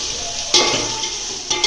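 Food sizzles steadily while being fried and stirred in a pan for home-cooked pulao, with a bright, hissing crackle and a couple of louder scraping stirs.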